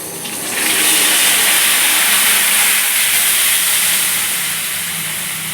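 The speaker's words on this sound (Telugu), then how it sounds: "చింతపండు రసం, అది ఇందులో వేయాలి" Tamarind juice poured into a hot tempering for pulihora sets off a loud, sudden sizzle that rises within a second and then hisses steadily, fading slightly as it goes on.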